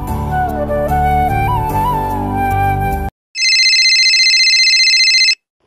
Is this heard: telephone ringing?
yes